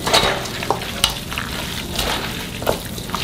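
Young radish greens are tossed by hand with seasoning paste for kimchi, producing soft, wet squelches and rustles in irregular bursts, fairly close and without talk.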